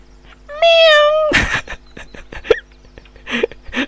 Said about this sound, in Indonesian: Ada kucing